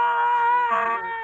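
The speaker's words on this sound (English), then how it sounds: "I think I can hear your fucking Pokemon scream" A tonal, whining cry from a Pokémon in Pokémon Omega Ruby, one sustained electronic scream-like sound lasting about a second and dipping in pitch at the end.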